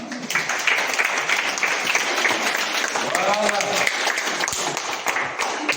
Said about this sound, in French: il faut applaudir votre camarade là